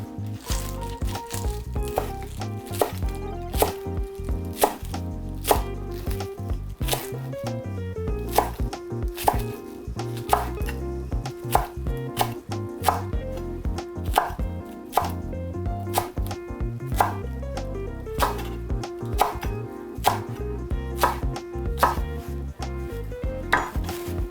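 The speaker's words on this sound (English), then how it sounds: "I'm gonna cut these in about 1/2-inch pieces on a bias" A knife chops green onions into half-inch pieces on a bias across a cutting board, giving steady, crisp, close knocks in a brisk, even rhythm that continues throughout with no talk.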